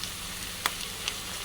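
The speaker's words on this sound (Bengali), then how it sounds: "কড়াইশুঁটি দিয়ে দিলাম।" Green peas sizzling in a pan with stir-fried vegetables for fried rice, a low steady frying hiss with a couple of faint brief clicks, fairly quiet.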